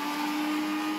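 A mixie, a mixer grinder, whirs loudly as its jar grinds coconut in a home kitchen, giving a steady close motor drone with a sustained pitch throughout the short burst.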